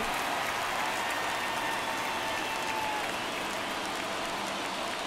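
A stadium crowd in the MLB The Show 24 baseball video game, heard as a steady, dense wash of cheering and applause throughout, fairly distant, with no clear speech.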